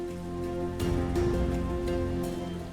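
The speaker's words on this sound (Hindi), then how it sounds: "इस वर्षा में आगे बढ़ना, सीता को खोजना हमारे लिए बहुत कठिन होगा।" Steady heavy rain in a dramatized mythological setting, a continuous dense wash of falling water with no breaks, with a low musical drone and soft swells running beneath it.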